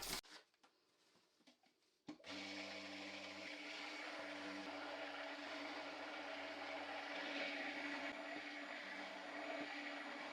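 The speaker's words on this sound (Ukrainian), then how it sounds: "І збиваємо блендером." An electric blender whips egg yolks, sugar and oil into batter for a cherry cake. After a few seconds of quiet clatter it starts abruptly and runs as a loud, steady motor whir to the end.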